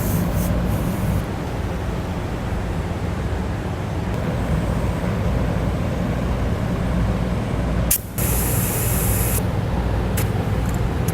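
Steady hiss of spray soaking the elbow fittings on Air Lift LoadLifter 5000 rear air helper springs, inflated to about 30 psi on a 2006 vehicle, continuous and close, with a brief break near the end.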